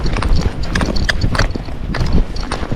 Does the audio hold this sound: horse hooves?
yes